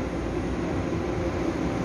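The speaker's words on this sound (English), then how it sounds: "We're waiting for the next train at San Bruno station." A BART train at San Bruno station gives off a steady, loud, continuous rumble that fills the whole stretch, with no voices over it.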